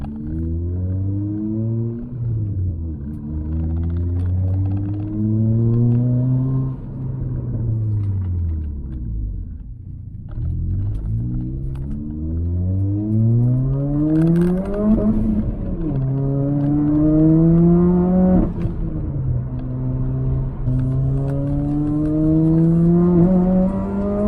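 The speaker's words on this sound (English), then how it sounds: "We're gonna go out and do the braking procedure real quick, and then we'll make sure these brakes are performing pretty good." Turbo Toyota Corolla driving to bed in new brakes, its engine repeatedly revving up through gears with rising pitch, easing off and accelerating again, close and loud inside the car.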